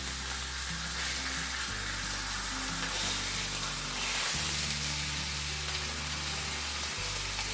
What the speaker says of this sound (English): going to throw the side that I seasoned down in the pan.